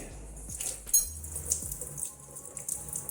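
Water sprinkled a little at a time over a kitchen dish-washing sink spread with salt and baking powder, heard as soft close splashes and faint squeaks against a low background hum.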